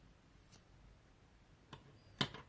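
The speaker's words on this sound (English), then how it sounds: "Cut off the yarn here" Scissors snip through crochet yarn while finishing a bobble stitch beanie, giving a few brief, quiet clicks: one around the middle, then two sharper snips close together near the end, over faint background hiss.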